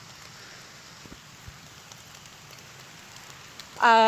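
Steady, soft rain falls on casuarina trees with scattered drips. It ends in a brief, louder tonal voice-like sound.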